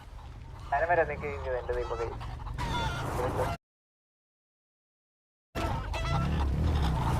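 Chickens cluck and squawk in agitation while being caught for a meat shop, loud and close with flurries of calls, then a gap of silence before more flustered clucking; people talk underneath.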